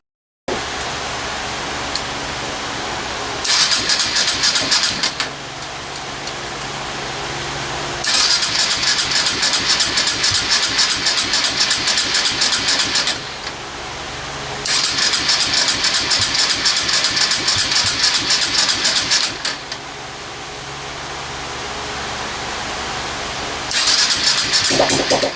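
Kawasaki KLX 140 dirt bike engine, fitted with a big bore kit, in bursts of loud close revving and running that alternate with quieter idle-like stretches across the whole span.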